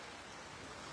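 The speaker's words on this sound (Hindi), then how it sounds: "जो बारिश चल रही है" Heavy rain pours down during a storm with strong wind in Losal, a dense, continuous hiss of falling water with no gaps or voices.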